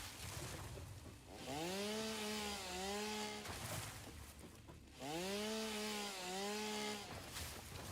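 Chainsaw in the farming video game Farming Timekeeper, two identical bursts of a buzzing motor that revs up and wavers in pitch, each about two seconds long, faint, separated by brief gaps.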